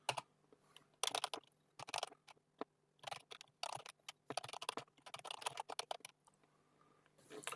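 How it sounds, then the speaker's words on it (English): Someone types on a computer keyboard in Notepad, with quick bursts of close, crisp keystrokes separated by short pauses. The rhythm is irregular and the room is otherwise quiet. "I will start typing this"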